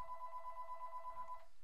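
A telephone rings faintly in the background, one steady electronic ring tone lasting over a second, quiet and distant.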